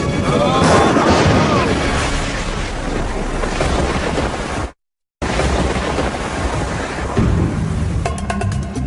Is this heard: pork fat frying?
no